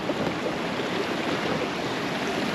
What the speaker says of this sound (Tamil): தண்ணி பாருங்கள், இந்த இடத்துல தான் செம்ம ஃப்ளோ பயங்கரமாக இருக்குது